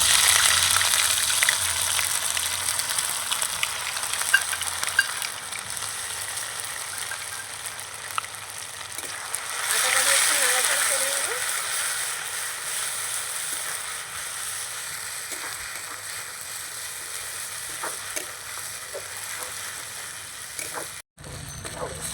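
Ginger paste sizzles in oil with cardamom and bay leaves, a soft continuous hiss that swells briefly partway through and then fades to a quieter fry, ending with a short clunk.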